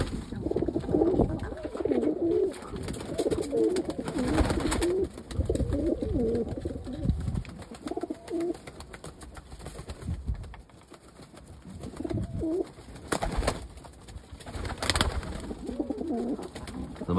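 White homing pigeons coo repeatedly nearby, soft throaty warbling calls rising and falling in overlapping bursts, with occasional rustling and faint background noise.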